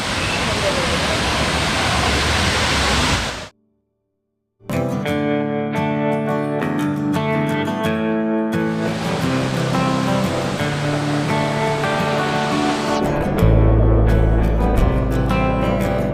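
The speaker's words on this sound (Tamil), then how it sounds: "இந்த பட்டர் மில்க் வாட்டர் ஃபால்ஸ், அதாவது ஜரி ஃபால்ஸா ப்ரோ." Jerry Falls, also called Buttermilk Falls, in the Baba Budan hills of Chikmagalur, with low white water, gives a steady broadband rushing roar that cuts out briefly, then continues under layered tonal sounds like music.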